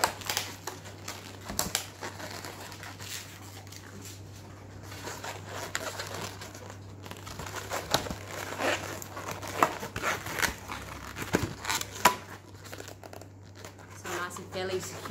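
Soft rubbery squeaks and crinkly rubbing sounds of balloon nozzles being tied together come and go up close, with faint talking in the background.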